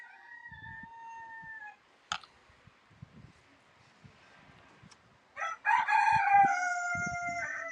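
A rooster crows loudly at the start, then quiet clicks and shuffling, followed by another long, loud crow near the end.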